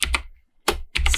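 Computer keyboard being typed on, a few quick crisp key clacks in two short clusters separated by a brief pause, close and alone.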